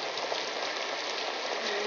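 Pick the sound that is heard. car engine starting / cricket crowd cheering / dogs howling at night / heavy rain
heavy rain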